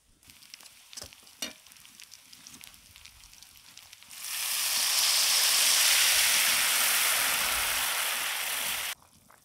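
Water hits a hot pan of lightly fried jackfruit kofta and spices. A few soft clicks and faint stirring give way to a sudden loud, steady hiss that lasts about five seconds, then stops abruptly.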